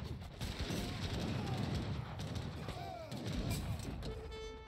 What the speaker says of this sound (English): He's got a mortar down there shooting that